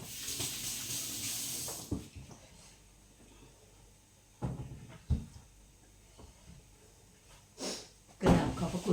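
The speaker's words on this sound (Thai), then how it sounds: "ต้องล้างมือก่อนนะคะก่อนจะปิด" A faucet runs in a strong burst at the start, then hands are washed with intermittent splashes, gushes and small knocks near a sink.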